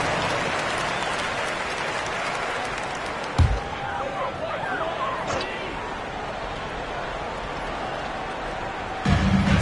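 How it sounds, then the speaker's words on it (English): A basketball arena crowd applauds during a Suns versus Jazz game, with a continuous broad roar of clapping and cheering and a couple of sharp thumps rising above the noise. "Give yourself a round of applause."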